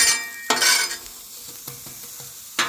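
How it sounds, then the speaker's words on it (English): Onions sizzle while a spatula pushes them around a Blackstone griddle being seasoned, bright bursts of frying hiss alongside several sharp metal scrapes and taps on the flat top, close and loud, no speech. "So it's just kind of getting these onions around, and that helps just to season up"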